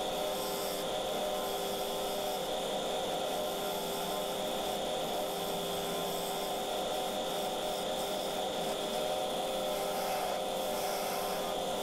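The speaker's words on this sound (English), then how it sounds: "I was able to use my traditional hollowing method of starting from the outside and working my way in." Steady whirring drone of a lathe while a sycamore bowl is hollowed, with a constant tonal hum and faint scraping of the tool, continuous and moderately loud, with no talk.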